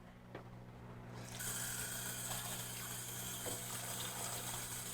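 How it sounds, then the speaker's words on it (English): Water gushes from a tap into a small bowl of instant noodles, starting after a brief quiet moment, then running as a steady, close, rushing stream alone. "Then I go and fill it up with water."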